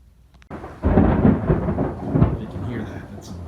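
A rumble of thunder from a storm rolls in after a brief moment of quiet, building into a loud, sustained low roar that fades toward the end.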